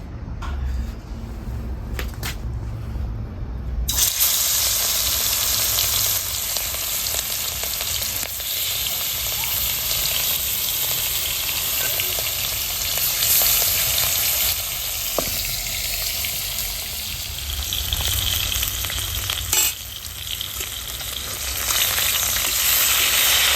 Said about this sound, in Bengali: এই যে মাছগুলো এক সাইড করে ভাজা হয়েছে, ভালো করে ভাজতে হবে।